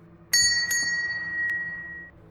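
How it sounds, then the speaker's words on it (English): A small bell hung above a shop's front door rings as the door is pushed open, giving two quick bright dings and a third lighter strike that leave a ringing tone decaying over quiet room hum. "I pushed it open and the little bell above it jingled."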